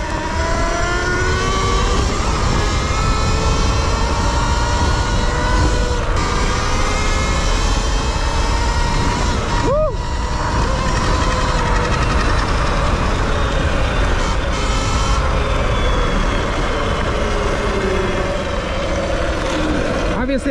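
A Talaria electric dirt bike with a GLE BAC8000 controller ridden on a forest trail, with loud continuous wind rush and road noise, a brief rising motor whine midway and a voice at times.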